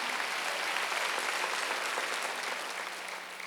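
A Korean church congregation claps together during a Wednesday worship service, a dense, even wash of many hands filling the hall without pause.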